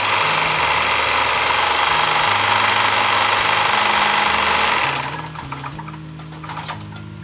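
A sewing machine stitching a leaf-shaped placemat runs loud and steady with a fast mechanical hum for about five seconds, then stops, leaving quieter clicks and handling noises.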